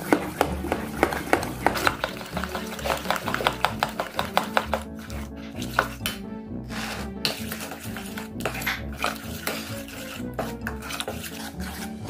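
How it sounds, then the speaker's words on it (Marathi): A spoon beats instant rawa and boiled potato appe batter in a bowl, a rapid run of loud, close scraping and tapping strokes that slows and softens partway through, with no talk. "छान मिक्स करून घ्यायचं आहे चमच्याने।"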